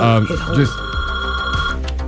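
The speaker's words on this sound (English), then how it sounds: "we're getting a phone call." A telephone rings with an incoming call during a radio show, a short electronic ring burst sounding over the hosts' talk, which continues briefly around it.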